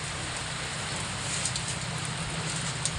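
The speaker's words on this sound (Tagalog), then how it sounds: "ang ulan ay paambon-ambon na" Light drizzle falling in Malolos, Bulacan, during Typhoon Uwan, a steady soft hiss of rain that runs continuously at an even level with no talking.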